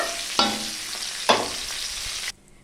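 Vegetables fry with a steady broadband sizzle in a pan, broken by two sharp stir clatters of a utensil, before the sound cuts off abruptly near the end.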